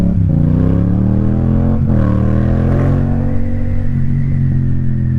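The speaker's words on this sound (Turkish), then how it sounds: "sabah sabah iyi geldi ha egzoz sesi." A Yamaha MT-07 motorcycle's exhaust revs loud and close, a deep rumbling roar that rises and falls through a few throttle blips before settling into a steady idle drone.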